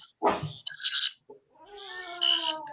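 A domestic cat gives two close, loud meows separated by a short pause, the second one longer and drawn out with a rising, whining tone.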